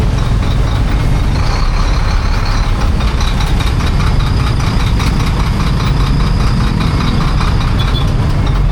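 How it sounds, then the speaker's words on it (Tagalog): Large trucks parked along a congested road in Cagayan de Oro idle with a loud, continuous low diesel rumble and a rattling knock, overlaid by broad traffic noise and a faint high whine throughout. "At ito rin sanhi ng matinding traffic itong lalaking mga sasakyan"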